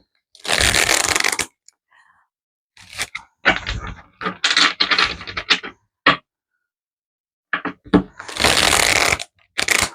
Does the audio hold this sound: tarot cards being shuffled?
yes